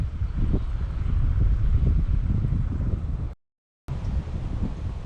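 Steady wind buffets the microphone in low, rumbling gusts, broken by a brief moment of total silence before the blustering resumes.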